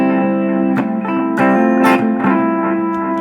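Sustained electric guitar chords with a wash of reverb, a few strummed accents ringing out and blending into a spacious tail.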